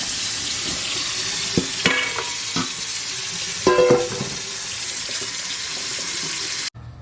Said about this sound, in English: I'm gonna take these in the house and fill the bowl with water to get the creepy crawlies out of there